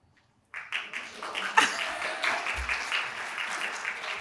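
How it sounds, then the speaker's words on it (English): An audience at a community panel discussion breaks into applause that starts suddenly, peaks quickly and keeps up as a steady patter of clapping hands. "I wasn't expecting a round of applause, but I'll take it."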